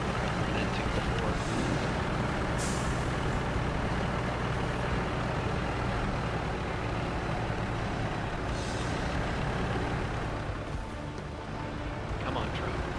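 Off-road truck engine in the SnowRunner video game, a steady heavy low rumble with hissing air-brake bursts, running continuously under a voice talking.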